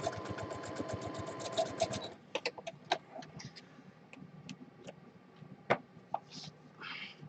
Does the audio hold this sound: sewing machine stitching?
yes